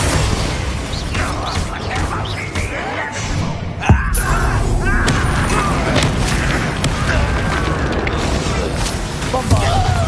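Explosive spells such as Confringo and Bombarda cast in Hogwarts Legacy during a battle with Ranrock, booms and bursts layered over a loud, constant roar of combat with a shouting voice throughout.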